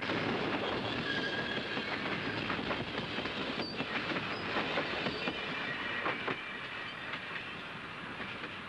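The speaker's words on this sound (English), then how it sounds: "we have an SP diesel commute coming into the station" A Southern Pacific diesel commuter train rolls steadily past at close range into a station, wheels clattering over the rails with a continuous rumble and occasional metallic squeals.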